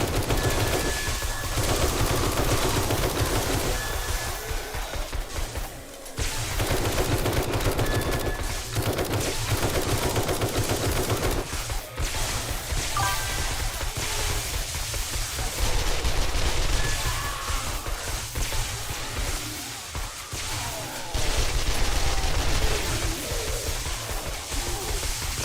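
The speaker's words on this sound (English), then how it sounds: "So I probably have to shout over all the gunfire and screaming." Sustained bursts of automatic gunfire and chaotic combat noise from the zombie survival game 7 Days to Die, dense and continuous with brief lulls, loud and close throughout.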